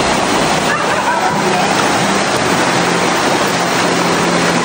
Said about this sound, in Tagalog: Tapos malakas pa yung tubig sa ilalim mga moms.